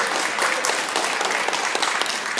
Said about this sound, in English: I'm feeling some more spontaneous applause